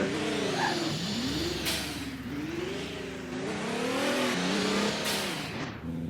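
A Tesla in the Roblox game Driving Empire, its engine sound rising and falling in pitch as it accelerates and shifts, loud and continuous, with a faint tire squeal.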